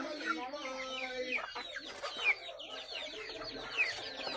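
Several chickens cluck and squawk close by in a busy, overlapping chorus, with a few sharper calls rising above the steady murmur.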